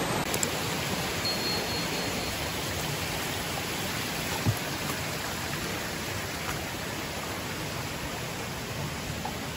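Mountain river rushing at a forest trail crossing on Mt. Pamazapazan in Aurora, a steady dense wash of flowing water close by with no pauses and no voices.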